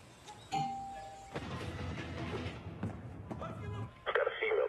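A doorbell chime rings out in a tense spy action film scene, a sustained tone followed by a brighter chime near the end, with thuds, movement and voices around it.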